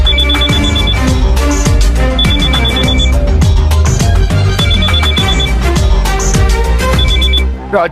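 A telephone rings loudly in a repeating bell pattern, short bursts at regular intervals over a busy music backing, continuing until it cuts off at the end.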